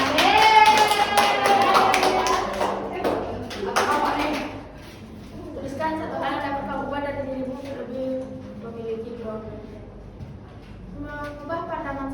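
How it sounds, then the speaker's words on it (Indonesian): Senior high school students at a classroom counselling session on growth and fixed mindset clapping together, a short burst of applause at the start that fades out as voices, chatter and some sung or drawn-out tones take over. "Tepuk tangan."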